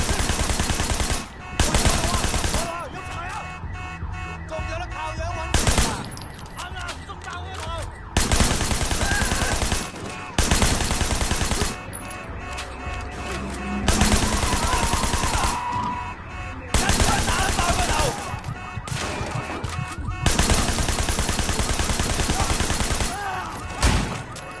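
Bursts of blind-fire gunshots in the open-world action game Sleeping Dogs, set in Hong Kong, come in several loud, dense volleys of rapid shots, separated by brief quieter gaps.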